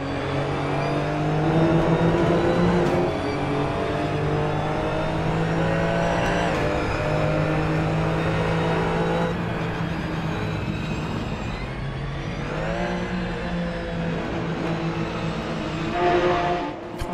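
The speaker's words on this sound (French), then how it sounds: "Retour de flamme est très très impressionnant sur la voiture." A Ginetta GT4 race car in Assetto Corsa drones with a sustained engine note that rises and falls through revs, with sharp crackling pops and bangs in a few spots, loud and alone.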